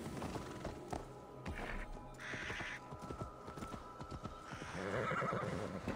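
Horse neighing and clip-clopping hooves in the video game Assassin's Creed Valhalla, a whinny rising over steady hoofbeats with game ambience and a brief brighter burst, fairly close and clear throughout.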